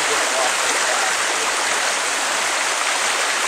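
Steady, close rushing of creek water flowing continuously over bedrock with a bright, even hiss and no pauses.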